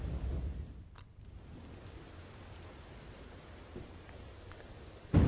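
Heavy downpour at Nadabet on the India–Pakistan border in Banaskantha, a steady broadband hiss of rain that holds evenly throughout, with a louder burst of drops or splashing right at the end.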